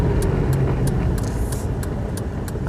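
A Daewoo Matiz engine accelerates with a steady, dense rumble heard from inside the car, broadband road and engine noise with faint periodic ticking on top, no voices.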